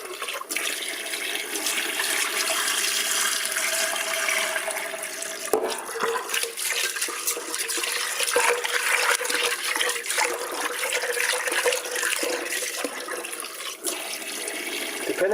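Cold tap water runs steadily into a pot of brown rice being rinsed, with sloshing and splashing as the grains are swirled, close and continuous with no talking.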